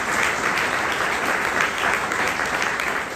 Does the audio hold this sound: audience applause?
yes